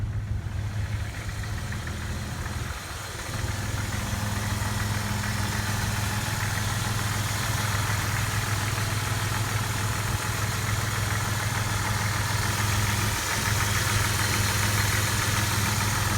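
A Jeep Grand Cherokee engine idles steadily for a long stretch, a close, even mechanical hum with a low throb and fan noise over it, broken only by a couple of faint thumps.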